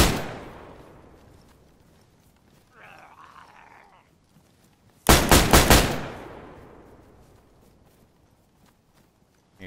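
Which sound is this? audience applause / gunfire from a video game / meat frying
gunfire from a video game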